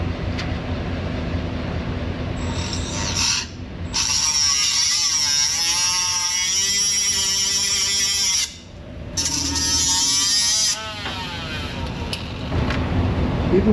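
A cutoff wheel slices through a steel parking brake cable on a 1960s Chevrolet C10 pickup, giving loud, sustained high-pitched grinding in two long passes separated by a brief pause, with a duller mechanical rumble before and after.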